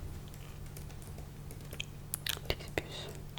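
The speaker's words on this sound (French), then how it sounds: "profitez du magnifique son du clavier." Computer keyboard typing in a quiet indoor setting, soft scattered key clicks that grow denser and sharper toward the end, close to the microphone under a faint steady hum, with hushed whispering voice present.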